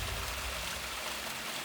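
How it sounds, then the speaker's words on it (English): The Do Waterfall in the Bach Ma forest drops down a 400-meter cliff, giving a steady, dense rush of falling water that stays even and unbroken, with no voices over it. "Oh, I'm so delighted to be out here at the Do Waterfall."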